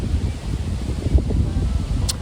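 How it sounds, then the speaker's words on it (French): Steady wind gusts outdoors buffet the microphone, a low rumbling rush that stays constant and fairly loud with no voices. "mais j'attends que le vent passe."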